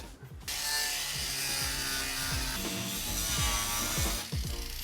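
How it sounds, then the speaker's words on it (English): Angle grinder cutting a metal fixture off a van interior during a build, a continuous harsh grinding whine with wavering pitch lasting several seconds, close and loud, no talking. "going to use this angle grinder to take off this thing"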